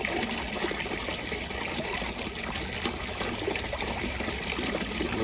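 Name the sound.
water trickling from a pump-fed Geometrica fountain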